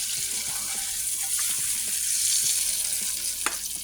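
A burger patty sizzles in a hot pan just after being flipped, a steady broad crackling hiss with a few small pops and clicks, close and continuous throughout.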